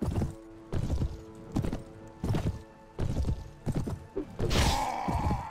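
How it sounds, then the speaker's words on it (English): Hooves of a horse beat a regular clip-clop in a Mount & Blade Warband mod battle, each thud evenly spaced and close, with a brief whinny-like burst near the end and no speech. "Run, horse."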